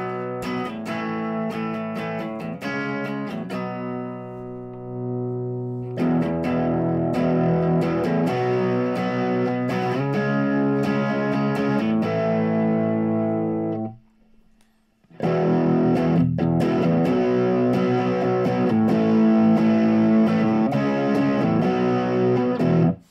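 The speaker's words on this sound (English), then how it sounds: "There you hear, kind of that distortion sound coming through, right?" Electric guitar played through an amplifier with the gain turned all the way up, heavily distorted chords ringing in sustained phrases, broken by a brief silent gap before the playing resumes.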